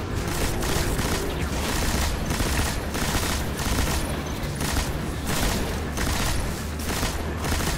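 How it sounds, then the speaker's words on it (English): A chain gun fires in the shooter game Destiny, a loud sustained rapid stream of shots with rhythmic pulses running the whole length, heard up close without talk. "this chain gun is too much fun"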